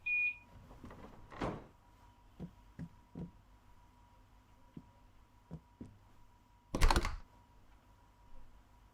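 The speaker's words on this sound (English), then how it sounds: "What I'm going to do now is lock the left doors." Left-side passenger doors locking on a train in Train Sim World 2's Isle of Wight Island Line: a faint beep, a loud clunk, scattered soft mechanical clicks, then a second strong clatter and a closing thump, set against a low cab hum.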